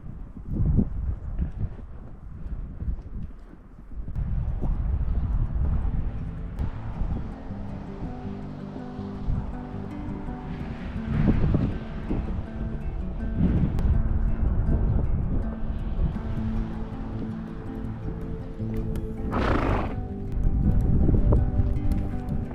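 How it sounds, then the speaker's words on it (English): On a winter farm, a horse walks out at an easy pace, its hoof steps muffled under gusting wind noise, with a brief whinny-like cry rising near the end. "I will walk out the horse for a bit first before going any faster."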